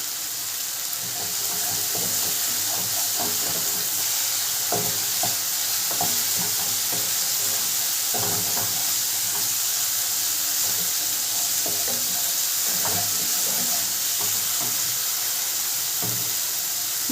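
Spice masala for raw banana kofta stirred and sautéed in a pan, giving a steady close sizzle with repeated scraping and stirring clicks throughout, no voices.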